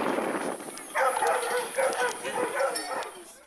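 Dogs at an outdoor breed-standard and beauty contest in Ergene, Tekirdağ, yip and bark in a busy, continuous stretch over crowd murmur and voices, with a loud cluster of barks in the middle.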